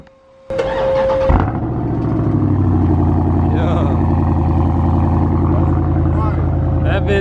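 A Chrysler 300 fitted with a swapped-in Scat Pack engine starts with a sharp burst, then settles into a loud, steady, deep idle rumble that carries on close by throughout.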